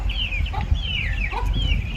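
Purebred hen with her chicks in a village yard, the hen clucking low while the chicks keep up repeated high peeps, close and continuous.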